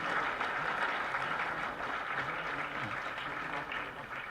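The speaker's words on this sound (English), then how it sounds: "Please give him a big applause for his beautiful achievement." An audience applauds at an award ceremony honouring A.R. Rahman with an innovation award, a sustained broad clapping that stays steady and then eases slightly toward the end, heard from within the hall.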